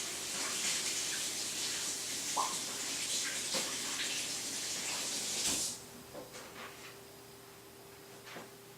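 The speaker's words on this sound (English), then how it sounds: "Alright, we're gonna have to wash our hands off." Water runs from a tap as paint is washed off hands, a steady close hissing splash that cuts off partway through, followed by a few faint drips and small knocks.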